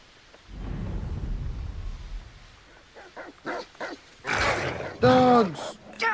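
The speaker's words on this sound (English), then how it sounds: "Dogs!" Dogs in the video game Hogwarts Legacy bark and whimper in short, loud bursts, and one sharp whine rises near the end, with a low rumble underneath. A person talks over the sounds.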